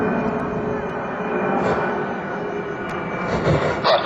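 A C-5B Galaxy military transport circles and climbs overhead at an airshow, its steady jet-engine drone filling the air at moderate distance, a continuous whine and rumble with faint crowd noise underneath.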